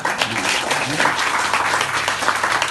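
A crowd claps at a college poetry recital (kavi sammelan), producing dense, sustained applause heard up close, with a voice faintly underneath.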